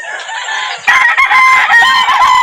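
Close rooster crowing rings out at a poultry market in Calauan, Laguna, a long loud crow starting after a faint opening call, with lower clucks and market noise underneath.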